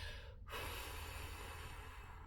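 A slow, steady exhale blown out as if at a candle, a soft breathy hiss held close and alone after a brief inhale.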